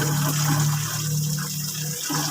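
Water is poured over cats to cool them in hot weather, making a steady, close gushing splash that runs for a couple of seconds with no talk over it.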